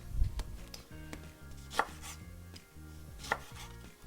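A knife cuts a lemon in half on a board, giving two sharp clicks of the blade striking wood, with a low rhythmic hum running underneath.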